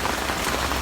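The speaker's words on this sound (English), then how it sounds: "It is raining now, you know. It's just that it is not that heavy" Light rain falls steadily on surfaces outdoors in a yard garden, a soft continuous patter at even level, close and alone with no talking.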